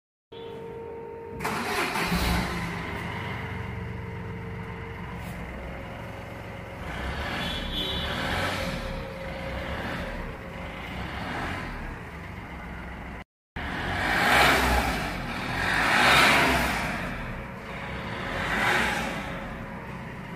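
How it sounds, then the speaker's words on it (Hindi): A Chevrolet Beat engine with an aftermarket exhaust muffler cranks and catches, then settles into a deep, raspy idle with a throaty sporty exhaust note, followed by a couple of loud revs after a brief cut. "अब मैं आपको कार स्टार्ट करके इसका रिस्पॉन्स चेक कराता हूँ।"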